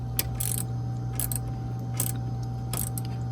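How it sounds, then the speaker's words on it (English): Close ratcheting clicks in short bursts as screws are tightened down on a boat's sea strainer cap, with a steady mechanical hum underneath and no talking. "Now I just put my cap on and tighten up my screws."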